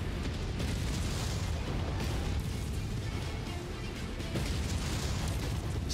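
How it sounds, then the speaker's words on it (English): Paired SRM missiles fire and explode in Mechwarrior 5, a continuous loud roar of blasts and rumbling impacts with a few sharper bursts throughout. "Now we're shooting double SRMs"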